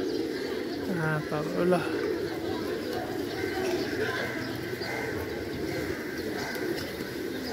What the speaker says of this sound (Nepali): परेवा छ यता त